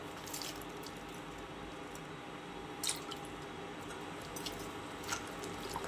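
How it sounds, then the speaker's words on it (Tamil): A pot of prawn and vegetable curry bubbles at a steady boil, a soft continuous simmering hiss with a few faint pops and drips rising above it. "பாருங்க குழம்பு கொதிச்சிட்டு இருக்குது."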